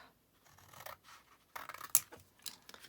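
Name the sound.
scissors cutting paper envelope flap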